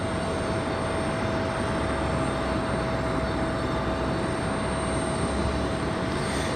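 Airliner Flight 1168 landing on runway 23 right at Raleigh-Durham International Airport: a steady, broad jet engine roar with a constant high whine, heard from a distance and unbroken throughout.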